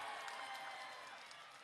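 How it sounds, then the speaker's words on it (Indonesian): A crowd at a speech in Indramayu breaks into scattered applause, a brisk spread of many hands clapping that starts strong and slowly thins over under two seconds. "Iya, semuanya tepuk tangan."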